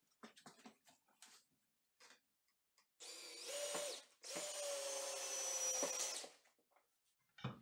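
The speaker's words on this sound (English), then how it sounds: "I'm going to drill another one." A power drill drives 3-inch screws into an electrical box for a 240-volt range outlet, two loud close whirring bursts of about a second and two seconds with a brief pause between, set among faint clicks and handling taps.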